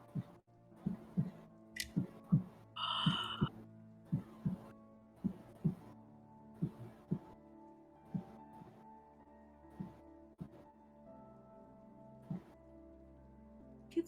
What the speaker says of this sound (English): You hear a heartbeat.